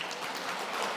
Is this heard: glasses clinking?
no